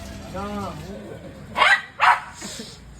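A dog barks twice in quick succession, loud and close, after a brief whine-like sound and some background noise.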